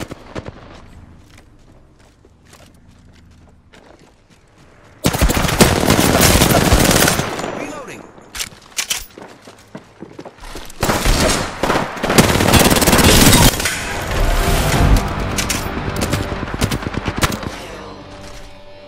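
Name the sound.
gunfire while taking fire in Apex Legends video game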